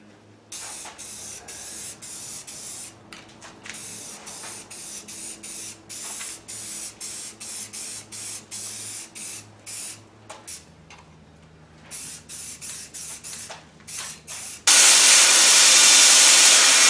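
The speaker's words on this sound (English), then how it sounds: "We'll do our couple of coats of brown, just a base brown." An aerosol can sprays a brown satin-finish base coat onto cannon restoration parts in repeated short hissing bursts, close and loud, ending in one long, louder continuous spray.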